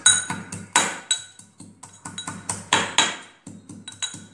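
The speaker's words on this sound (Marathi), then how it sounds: "आपण कुटून घेऊया, जास्त बारीक करायचं नाही, आपल्याला ठेचून घ्यायचे" Onion, garlic and masala being pounded by hand for hotel-style misal, a series of sharp, close knocks and clinks about every half second, with no talk.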